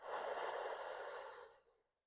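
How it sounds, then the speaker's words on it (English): Slow, soft breath drawn in through the nose and released out through the mouth during a postpartum Pilates core exercise, one long steady airy exhale close to the microphone fading into silence. "I'm going to take a couple of breaths in this position, breathing in through the nose,"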